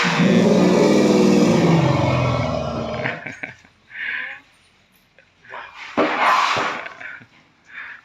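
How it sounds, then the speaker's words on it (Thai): A loader truck working by an elephant pen lets out a loud, rough engine roar that swells and then cuts off. Scattered softer knocks and voices follow in the quieter stretch. "ตกใจเสียงรถครับ พอรถเขาตักดินมาถมคอกให้"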